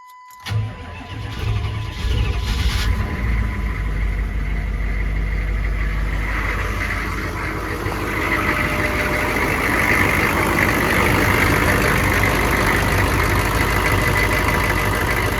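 A 1996 Chevrolet C2500 pickup truck engine cranks and catches, then settles into a steady, loud idle that runs on alone, with no voices.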